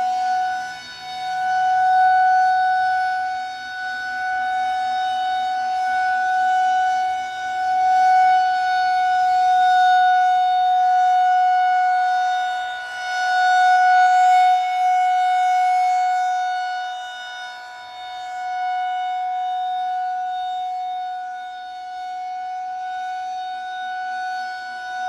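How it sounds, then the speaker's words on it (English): A loud outdoor Federal Signal 2001-130 warning siren wails steadily, its tone rising and falling slowly over a long stretch, with no voices. "the sirens are roaring"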